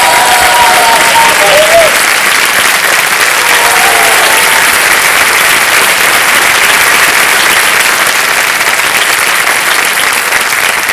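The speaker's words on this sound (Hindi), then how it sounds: "तालियां बज जाए उनके लिए" Studio audience on the quiz show Kaun Banega Crorepati bursting into loud, sustained applause that fills the room, with faint voices and musical tones underneath.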